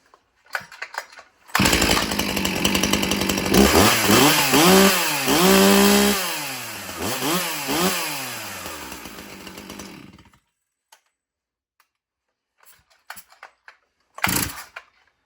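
A 20-inch G366 chainsaw, a new clone of the Stihl MS361, starts with a sputter, then roars loudly up close through several rising and falling revs before cutting off, followed by faint clicks and a brief final burst.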